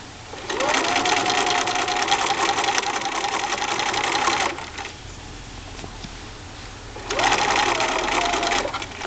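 A sewing machine stitches a miniature elastic-waisted skirt, running in two loud, steady whirring bursts separated by a short quieter pause.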